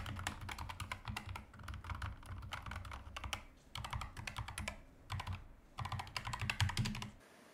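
Rapid, steady typing on a Corsair RGB gaming keyboard with a soft palm rest, dense keystroke clatter running close and continuous with brief pauses, no voices.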